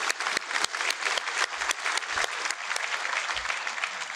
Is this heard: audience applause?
yes